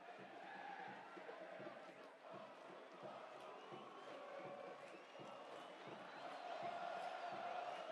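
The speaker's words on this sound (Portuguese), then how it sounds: "Vamos acompanhar a torcida gritando aí." Football fans in a packed, evenly split stadium stand for a Salgueiro versus Sport match keep up a steady distant roar of chanting and cheering, continuous and fairly faint throughout.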